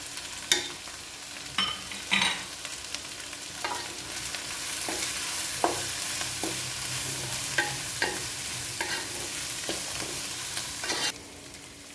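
Garlic pickle being stirred in a pan just after chilli flakes go in, with a steady sizzle of frying oil under repeated spoon scrapes and taps, close and without speech.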